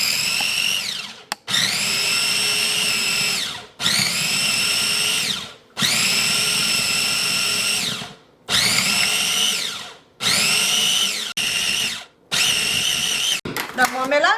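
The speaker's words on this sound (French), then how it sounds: "On va venir maintenant piler le tout ensemble." Chili pepper mixture for a fish rice dish being ground together in a blender, a loud whirring motor running in repeated long bursts separated by brief pauses, with a faint voice heard underneath.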